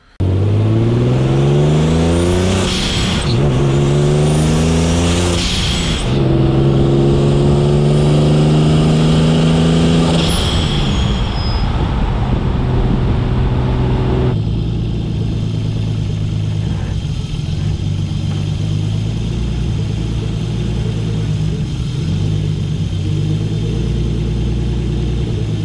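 A car with a wrinkle-finished valve cover and an oil leak delete drives steadily, its mid-pitched engine running loud and close, revving up through several gear changes early on, then settling into an even cruising drone.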